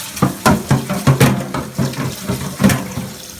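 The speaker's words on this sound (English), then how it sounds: "Clean the rice" Uncooked rice being rinsed under running tap water in a pot to wash off the starch, with a rhythmic series of close swishing, splashing bursts of water.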